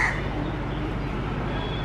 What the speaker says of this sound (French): ça ressemble plus à des corbeaux